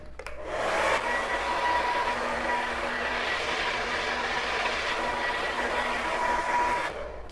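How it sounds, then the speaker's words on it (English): A handheld blow dryer is used to dry and style hair straight back, with a steady whooshing airflow that starts after a second and runs evenly before cutting off near the end. "I'm just gonna blow dry it straight back."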